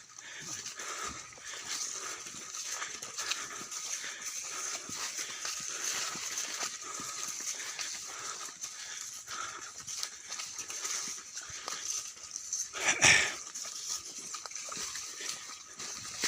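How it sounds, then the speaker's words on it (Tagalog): A dog makes noises beside a hiking trail amid steady outdoor background noise, with a brief louder burst near the end and faint voices in the mix. "Ay, may aso."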